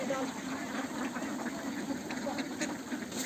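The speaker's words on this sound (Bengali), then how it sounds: "দেখেন হাঁসকে কেমনে খাবার দিতে হয়" Ducks being fed, scattered quacks repeating over a steady background hum, with a person talking at the same time.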